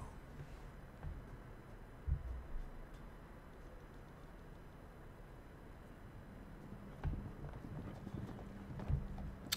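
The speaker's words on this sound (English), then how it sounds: "I hear the horses." Horses' hooves in The Witcher 3: Wild Hunt clop in a steady rhythm over a low rumbling background, with a few louder thuds along the way and no voices.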